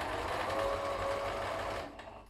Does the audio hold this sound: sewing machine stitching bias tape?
yes